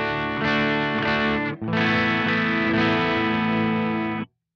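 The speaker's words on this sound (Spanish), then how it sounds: "vamos a empezar en el canal 1, que vendría a ser el canal limpio del módulo de Vai" An electric guitar plays through the clean channel of a Synergy VAI module with all controls at the midpoint. Two sustained, ringing chords carry a slight gritty edge and cut off abruptly.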